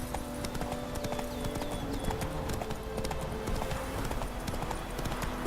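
Horse hooves clip-clop in a steady trotting rhythm in The Witcher 3, close and continuous over a low ambient bed with faint tonal game sounds.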